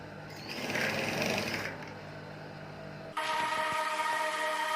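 Sewing machine stitching along the folded edge of fabric while making a baby dress, a steady whirring run that shifts to a higher, brighter mechanical buzz partway through, close up and loud, with no talk.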